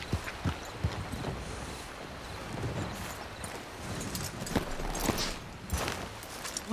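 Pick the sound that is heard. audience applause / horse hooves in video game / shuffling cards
horse hooves in video game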